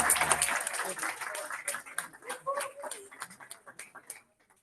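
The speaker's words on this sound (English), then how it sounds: "Big round of applause." Applause at a Toastmasters club meeting during a seventh anniversary celebration, heard as scattered, uneven claps from a modest room audience that thin out and stop, with some voices mixed in.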